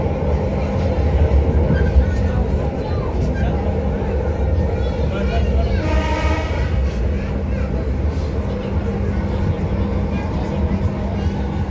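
Continuous rumble and rolling noise from inside a moving light rail train in Palembang, with a brief rising whine midway and a few voices in the background.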